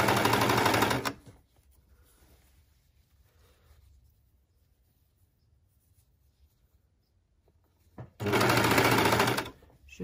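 A sewing machine stitching a T-shirt shoulder seam runs in two loud, fast bursts, one at the start and one near the end, with near silence between them.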